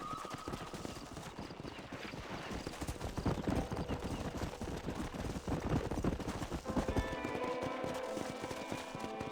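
Horse hooves in the Western game Red Dead Redemption clatter steadily and loudly in a fast, continuous rhythm. Distant gunfire and a whinny are mixed in under the hoofbeats.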